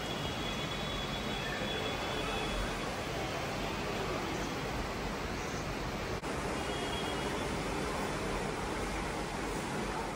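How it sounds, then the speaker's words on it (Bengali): Rain begins falling as a storm arrives, a steady broadband hiss that stays even and moderately loud throughout, with no talk. "বৃষ্টি শুরু হয়ে গেছে,"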